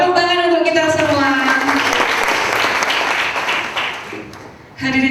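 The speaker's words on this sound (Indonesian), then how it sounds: "Oke, tepuk tangan untuk kita semua." Audience applause at a TIK training event, a full burst of clapping that swells then fades toward the end, with a voice speaking over the start and again as it dies away.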